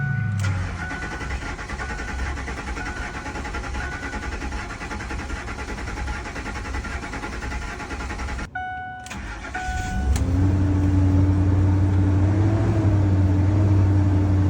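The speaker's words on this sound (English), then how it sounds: "And then I'm going to crank for like probably 30 or 60 seconds, 2 separate sections, just to really make sure that that fuel system is going to be primed for the first start." A Ford F150 with a 5.4 engine cranks steadily for several seconds after fuel injectors are reinstalled, pauses, then fires up and settles into a loud, slightly rough idle close by.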